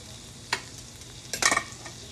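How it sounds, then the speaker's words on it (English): Peppers and onions go into a hot pan and fry, a steady soft sizzle with brief clattering stirs and drops of vegetables, close and without speech. "Grab a handful of peppers and onions at a time"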